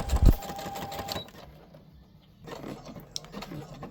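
A sewing machine stitching fabric tube sections together, buzzing briskly up close, then falling quiet for a pause before resuming with lighter, intermittent stitching.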